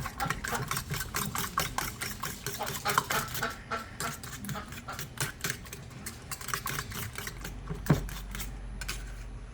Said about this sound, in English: So let's mix this all before we do the milk.